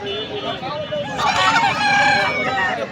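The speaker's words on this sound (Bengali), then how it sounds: "হাঁস মুরগির হাট।" Chickens and ducks at a village poultry market in Bangladesh, with close clucking and crowing calls that rise into a busy burst of fowl noise over a murmur of market voices.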